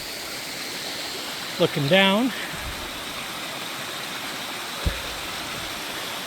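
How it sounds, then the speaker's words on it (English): A waterfall roars as a steady, broad rush of falling water along a Labrador hiking trail, continuous throughout, with someone speaking briefly over it. "More waterfall right here."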